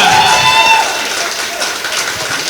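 Audience at a Holi comedy poetry gathering, a hasya kavi sammelan, breaking into a short burst of dense clapping that fades slightly as it continues.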